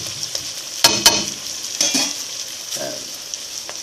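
Onion and garlic sizzle in a hot pan while a utensil scrapes and stirs, with a few sharp clacks against the pan over a steady frying hiss, close and fairly loud.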